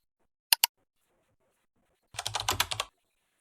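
Two quick clicks and then a short, rapid burst of keystrokes on a computer keyboard while HTML code is typed, close and clean in an otherwise silent room.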